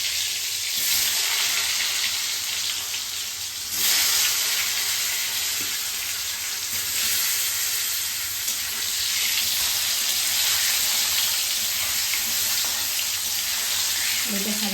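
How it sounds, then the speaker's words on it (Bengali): Potatoes fry in hot oil for a chicken curry, giving a steady, close sizzling hiss that holds throughout with only slight swells and dips. "তেলটা গরম হয়ে গেলে আলুটা ভেজে নেব।"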